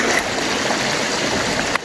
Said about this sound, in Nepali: पानी आएको छ क्या खोला राम्रै आएको छ